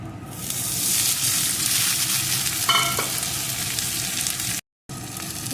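Boiled green peas fry in ghee with a loud, close, continuous sizzle and occasional stirring. The sound cuts out briefly near the end.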